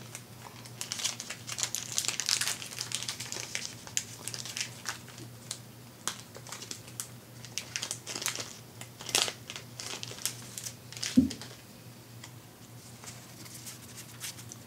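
Crinkling foil wrapper of a Yu-Gi-Oh! Legendary Duelist Season 1 trading card pack being peeled open slowly by hand, a soft continuous rustle with sharper crackles close to the mic over a steady low hum.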